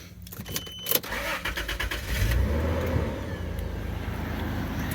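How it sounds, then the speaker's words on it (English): A 1997 Lexus LX450 SUV engine cranks and catches after a click and some rattling, then settles into a steady, low idle that continues to the end. "Let me actually turn the truck back on real quick"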